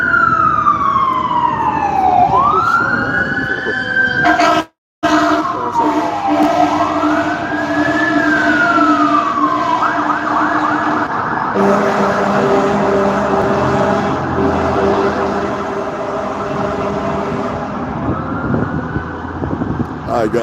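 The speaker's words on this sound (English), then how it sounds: "That was 2 fire trucks. Jesus Christ, those things were loud as hell, too." Two fire truck sirens wail loudly while passing close by, their rising and falling sweeps continuing over traffic rumble for about twenty seconds.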